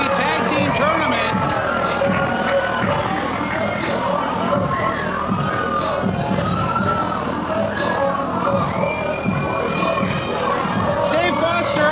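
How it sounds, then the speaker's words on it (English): A pro wrestling crowd gives a loud, sustained ovation at the start of a tag team tournament, with cheering and shouting filling the arena throughout. "What an ovation for Flex as we kick off the Grand Prix Tag Team Tournament"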